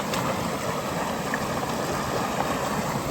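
Rainwater from a heavy atmospheric-river storm bubbles up through the ground, a continuous close gurgle and rush of water with no voices.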